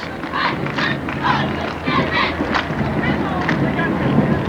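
A Juneau group at a 1988 city festival parade cheers in a continuous, lively crowd roar with mingled shouting voices, heard amid outdoor wind noise.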